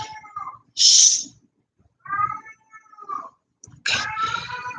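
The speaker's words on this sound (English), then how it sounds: "That's a stray cat that I feed." A stray cat meows loudly and close by in a few drawn-out calls with pauses between them, and faint human sounds come in around the calls.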